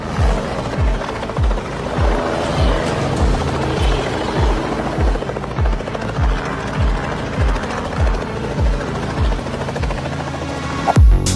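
Loud, close helicopter rotor thumping in a fast steady rhythm over a constant engine whine, continuing throughout.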